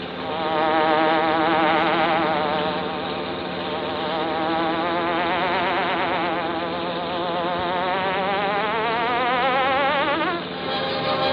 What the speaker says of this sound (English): The Green Hornet strikes again